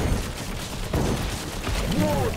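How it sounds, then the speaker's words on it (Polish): Hip-fire gunshots in the video game Pagan: Absent Gods: a sharp shot cracks out midway through a dense, noisy game soundscape, with fainter gunfire-like bursts around it. "Strzał z biodra na niego, ładnie oberwał."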